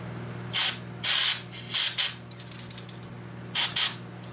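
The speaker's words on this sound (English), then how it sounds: "Get a little spray in there." Short hissing bursts of lubricant spray aimed into a stuck part of a 19-inch G07 arcade monitor, two quick pairs of close, loud blasts with a steady low electrical hum underneath.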